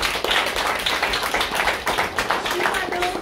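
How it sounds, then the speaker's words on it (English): A small club meeting audience claps for a speaker, a few people's hands making a close, uneven patter of distinct claps throughout, with a faint voice briefly near the end. "Let's give a round of applause for her."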